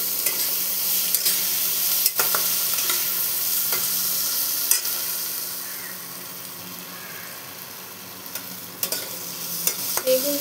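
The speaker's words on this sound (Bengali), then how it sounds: "এটা ভালো মতো মিশিয়ে ভেজে নিতে হবে" Vegetables with salt and turmeric frying in a pan, a continuous sizzle broken by repeated scraping strokes of a stirring spoon, close and without talk.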